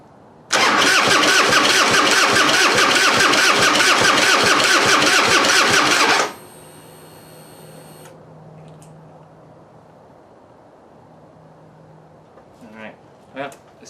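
A Harley-Davidson Heritage Softail with a suspected clogged-injector or flooding problem cranks loudly for about six seconds without catching, then the starter cuts off, leaving quiet with a faint hum and a few small clicks.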